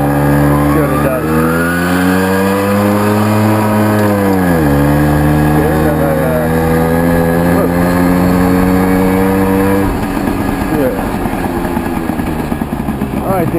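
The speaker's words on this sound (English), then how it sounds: "So let's give it a throttle test here from a standing start." A Tomos LX moped engine revs from a standing start in a throttle test, loud and close. The pitch climbs, drops sharply, holds at a high buzzing whine, then falls back to a rough idle.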